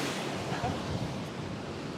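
Strong wind buffets the microphone at Curl Curl Beach, a dense, steady roar mixed with surf, loud and continuous throughout.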